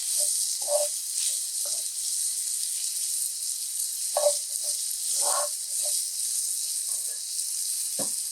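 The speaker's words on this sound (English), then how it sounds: "So we saute this up together for about 5 minutes." Seasoned breakfast empanada filling sautéing in a pan, a steady bright sizzle throughout with scattered scrapes and stirs, close and moderately loud, no voices.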